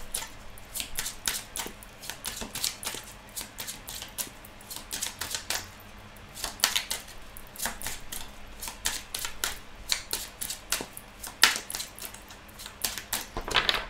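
A Gilded Reverie Lenormand oracle deck is shuffled and cut, giving a dense, continuous patter of quick card clicks and flutters, close and steady throughout, with no talking.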